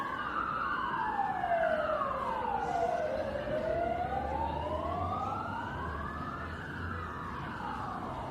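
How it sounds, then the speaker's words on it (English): Wailing sirens on Parramatta Road sweep up and down in pitch, overlapping, moderately loud and steady with traffic rumble beneath, no voices. "Sirens going on Parramatta Road."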